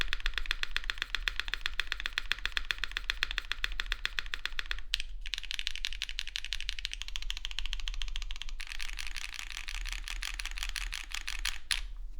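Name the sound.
typing on Monokei x Singa Neko prototype mechanical keyboard without foam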